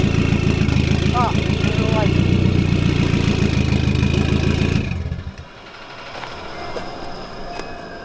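A loud, raspy car engine with an open downpipe idles with a coarse, unmuffled rumble, then cuts off abruptly, leaving quieter background noise.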